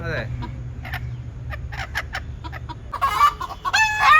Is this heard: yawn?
no